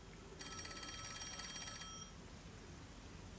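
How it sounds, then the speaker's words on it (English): A telephone rings in the video game Master Detective Archives: Rain Code: a bright, trilling electronic ring that repeats rapidly for about a second and a half, then stops, over a soft hiss. "Oh, the phone. It's a call from the WDO."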